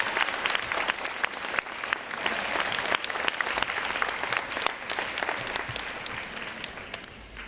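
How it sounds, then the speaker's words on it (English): Enthusiastic applause from a large crowd at a school awards event, dense clapping that stays loud throughout and eases slightly toward the end. "give all of you guys a big round of applause"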